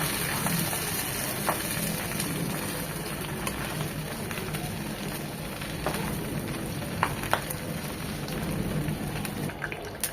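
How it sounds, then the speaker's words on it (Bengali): Pabda fish frying in mustard oil, a dense steady sizzle with scattered pops and crackles of spattering oil throughout, no voices. "মাছগুলো ভাজার ক্ষেত্রে প্রচুর ছিটে আসবে"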